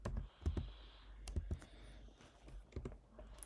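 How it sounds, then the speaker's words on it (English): A computer keyboard typed on in a quiet, close run of scattered clicks and taps at an uneven pace, with no talking. "Just type active."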